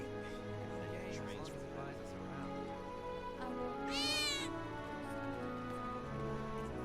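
A cat in Final Fantasy VII Remake gives a single rising, drawn-out meow partway through, over steady game music and ambience.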